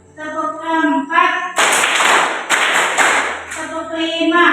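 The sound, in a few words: hand clapping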